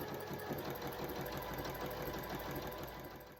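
A sewing machine running a stretch stitch on lycra wetsuit material, a steady, moderately paced mechanical chugging and whirring heard fairly close, with no talking.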